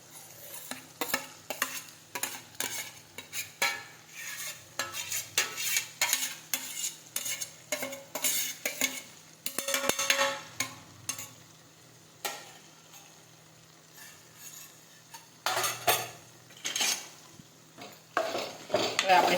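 Brinjal bharta being stirred and sautéed in a pan, with a spoon scraping and clinking against the metal in irregular bursts over a faint sizzle, close and moderately loud.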